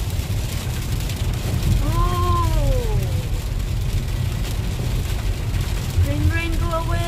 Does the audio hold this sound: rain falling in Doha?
yes